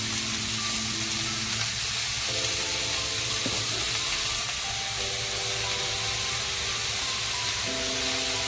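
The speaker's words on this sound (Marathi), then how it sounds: "आता आपण ह्याच्यात टाकतो आहे पालक।" Fresh spinach leaves sizzle steadily in a hot pan for a Marathi-style thin palak sabzi, a continuous close frying hiss with no talk over it.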